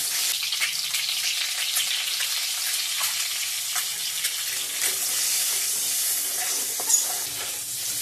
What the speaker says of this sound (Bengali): ডিমগুলো এখন ভেজে নিব।